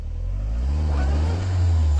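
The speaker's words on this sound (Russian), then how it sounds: "А с ними то колесо буксует, левое переднее." Nissan Leaf stuck in knee-deep snow with its front left wheel spinning, a steady low electric-motor whir and wheel drone that swells slightly toward the end, with no talking.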